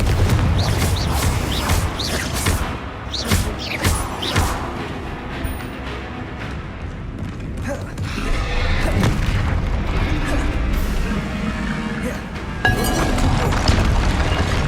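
Hogwarts Legacy spell combat with Bombarda and Confringo, loud booming blasts and crashes layered over a continuous rumbling battle soundtrack, with spoken incantations called out between impacts.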